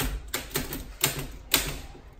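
Typewriter keys struck one by one in an old general store, four or five distinct, fairly crisp clacks spaced about half a second apart over a quiet background.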